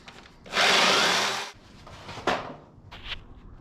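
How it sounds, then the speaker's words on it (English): A jigsaw finishing angle cuts in wooden rafters for a shed: one loud, close, buzzing cutting burst lasting about a second, then brief knocks and a short second rasp. "I've started the angle cuts with a skill saw, and then I'm just going to finish them with my jigsaw."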